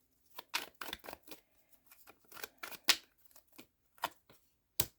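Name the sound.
shuffling tarot cards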